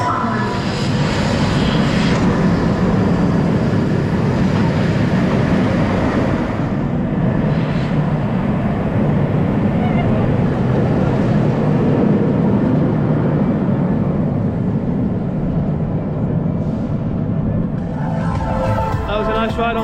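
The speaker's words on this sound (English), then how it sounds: "That was a nice ride on Galactica." The Galactica roller coaster at Alton Towers in motion, a loud continuous rushing roar of wind and track rumble from onboard, with faint voices near the end.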